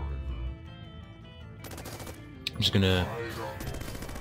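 Sentry turret gunfire in the robot game Bionic Dues, a sudden short burst of rapid shots after a stretch of background game music, with someone speaking briefly.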